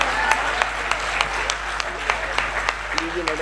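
An audience at a Hindi comic poetry gathering claps with sparse, distinct slaps over a murmuring crowd, while a voice talks over it.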